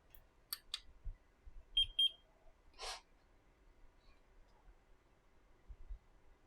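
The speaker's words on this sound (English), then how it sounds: "Don't think there's a way to turn off the beeping on this thing." An electronic device being used to make a Neptune gives a couple of short, quick high beeps in a quiet room, amid scattered faint handling knocks and clicks.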